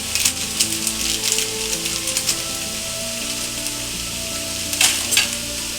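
Turmeric and cumin powder frying in a pan, a continuous close sizzle and crackle with scattered bright stirring scrapes, the loudest scrapes coming early and again near the end, with no voices.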